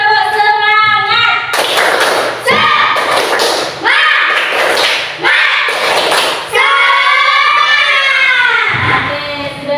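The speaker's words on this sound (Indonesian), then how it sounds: "Lagi, tepuk semangat." A classroom repeats its spirit clap: loud rhythmic clusters of hand claps and thumps between bursts of children's chanting, close and energetic.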